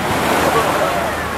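Ocean waves at a Hawaii beach wash in a steady, close rush of surf and slosh, loud and continuous with no breaks, and voices may sit faintly underneath.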